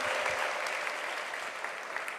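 Worshippers in a church service applaud, giving praise for a female pastor's life: fairly quiet, even clapping from the congregation filling the moment with no break.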